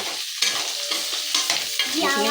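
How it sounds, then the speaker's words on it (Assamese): Small home-grown potatoes frying in a pan, a continuous close sizzle with several scraping stirs and spatula knocks across the short stretch, no one speaking. "আলুখিনি অলপ ফ্ৰাই হ'বলৈ দিম"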